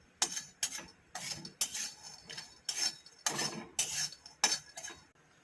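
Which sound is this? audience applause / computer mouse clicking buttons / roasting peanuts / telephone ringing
roasting peanuts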